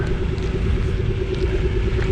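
A go-kart engine running on a karting track, a loud, steady buzzing drone with a constant pitch that stays close throughout.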